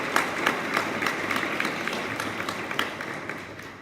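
Audience at a town forum claps together, a soft, somewhat distant patter of many hands that stays fairly even for a few seconds before tapering slightly.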